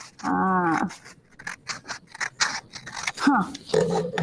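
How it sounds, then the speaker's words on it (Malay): Scissors cut a letter B from thick or A4 paper in a steady series of sharp, close snips, with a voice talking at the start and between cuts. "Kita akan gunting kertas B."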